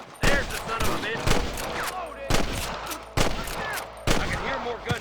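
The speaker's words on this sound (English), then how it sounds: "I can hear more gunshots." Gunfire in the Red Dead Redemption video game, played on PlayStation 5: loud, sharp shots crack out in several separate bursts roughly a second apart, with echoing tails and battle noise between them.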